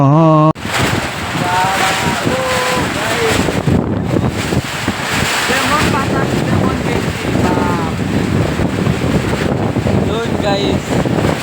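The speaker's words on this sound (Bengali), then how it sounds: "এরকম বৃষ্টি যেমন বৃষ্টি এমন বাতাস" Strong wind and rain buffet the microphone in a loud, constant roar, with a person talking over the gusts throughout.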